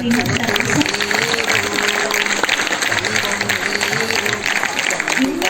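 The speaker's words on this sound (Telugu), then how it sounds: "ఒకసారి అందరం చప్పట్లు కొద్దాం" School staff applaud at a farewell for transferred teachers, a sustained burst of many hands clapping together in a room, with voices speaking over the clapping.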